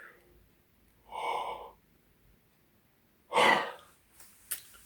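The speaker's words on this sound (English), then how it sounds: "I got the yawn started now" A person yawns in two breathy, drawn-out vocal bursts, the second louder and fuller, separated by quiet, with a faint short breath at the end.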